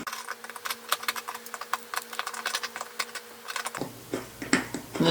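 A Swiss Army knife scrapes putty-like adhesive off a string clamp insert, producing rapid, close, scratchy strokes over a steady machine hum that cuts out partway through, the scraping continuing afterward.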